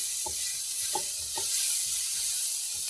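Onions caramelize for potato masala in a hot pan, a steady close sizzle and hiss with a few soft knocks of stirring, loud and continuous with no voices.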